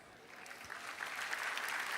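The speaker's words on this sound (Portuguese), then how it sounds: "Bora aplaudir com alegria." A church audience applauds joyfully, a broad wash of clapping that swells steadily louder over two seconds, heard at a moderate distance with a faint murmur of the crowd underneath.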